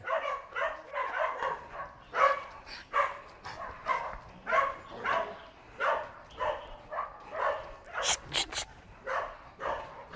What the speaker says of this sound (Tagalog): kapag nagsimula ng tumahol ang mga aso sa kapitbahay, ay hindi pwedeng hindi siya rumesbak ng tahol